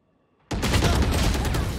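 Shotgun blast in a video game, cutting in abruptly after half a second of near silence and followed by a dense, loud burst of crackling gunfire that carries through to the end.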